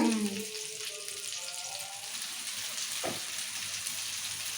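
Masala-coated fish pieces frying in a pan give a steady hiss of sizzling oil, moderately loud and continuous, with a brief sharper crackle partway through and a voice heard faintly at the start.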